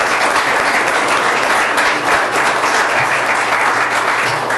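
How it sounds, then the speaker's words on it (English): An audience at a police department swearing-in ceremony gives a steady, dense round of applause. The many hands clap close and loud throughout with no talking. "Round of applause for all your hard work."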